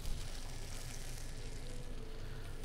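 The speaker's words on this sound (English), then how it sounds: "So now we're gonna add in our just baby cherry tomatoes. So they're seasoned with salt and pepper. And you can hear the sizzle." Seasoned baby cherry tomatoes with a sprig of thyme sizzle in a hot pan, a steady, even frying hiss that continues without pause and with no voices.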